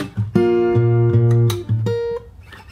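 Fingerstyle acoustic guitar playing the first bar of the chorus of a song: plucked bass notes and ringing chord tones in a few sustained strums, close and clear, ending with a short percussive slap.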